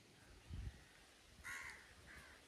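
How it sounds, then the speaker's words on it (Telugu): Crows cawing in a quiet early-morning village, a few faint, separate caws spaced across a short stretch with soft background ambience. "కోయిలు ఒక పక్క, కాకులు ఒక పక్క"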